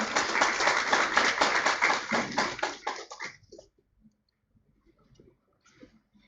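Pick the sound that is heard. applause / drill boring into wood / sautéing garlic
applause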